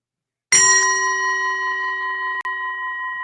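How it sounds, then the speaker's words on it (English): A ritual bell used to mark mantra counting in a Bodhisattva practice is struck once and rings with a long, bright, sustained tone, with a light second touch near the end. "And I have my nice bell."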